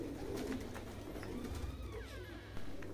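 Pigeons cooing in a loft: continuous low murmuring coos from several birds layered over steady background noise, with a faint chirp or two, moderately close and without speech.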